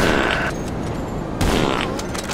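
Gunfire in GTA Online during a tank and half-track chase: dense, loud bursts of shots with a brief lull, then another heavy volley near the end.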